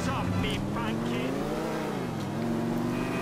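A car drives in the video game GTA IV, its engine revving and shifting in pitch as it accelerates, steady and prominent, with a voice talking over it.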